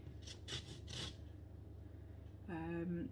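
Citrus zest being grated on a small handheld grater, a few quick rasping strokes close up in the first second, followed by a pause and then a short tonal sound near the end.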